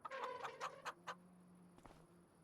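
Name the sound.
chickens in a coop in the video game Farming Simulator 25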